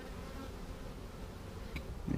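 Honeybee hive interior as a new bee emerges from its brood cell, a steady close buzzing hum of many bees that swells slightly toward the end.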